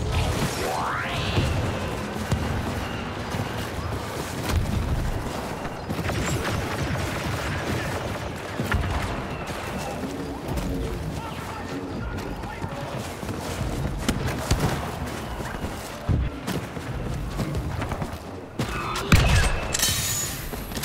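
Dense blaster fire and battle noise in a Star Wars Battlefront II Galactic Assault match on the Imperial side, with rapid shots steady throughout and voices talking over the chaos.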